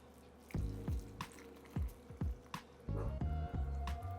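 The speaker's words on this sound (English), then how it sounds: "that caramelized water, it doesn't have to be completely cool, but go ahead and add it right into the peanuts" Cooled caramelized sugar water poured into smashed peanuts for a Lao naem pa salad sauce, giving soft wet drips and squishy splashes in irregular bursts, close and quiet, with no talk.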